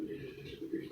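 A pigeon, the hen Chandi held in her handler's hands at a pigeon-flying tournament, gives soft low cooing notes, close and faint, with a few brief pulses.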